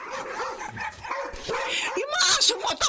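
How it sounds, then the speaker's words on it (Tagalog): Dogs bark and yip in quick, excited bursts, with some whimpering mixed in, fairly close and busy throughout. "Yung mga aso mo, tahol ng tahol!"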